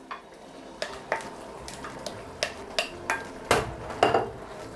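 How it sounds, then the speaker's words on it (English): A spoon stirs party egusi soup in a metal pot, giving a series of light, fairly close clinks and scrapes that fall in an uneven rhythm over a low hum, and nobody speaks. "I'm just going to just give it a little stir, not like big stir."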